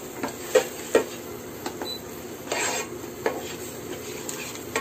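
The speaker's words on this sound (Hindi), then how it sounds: "अब इसको थोड़ा चलाएंगे" Spiced potato filling is stirred in a pan: a utensil scrapes and clinks against the metal in irregular strokes, with a few sharper knocks over a quiet background.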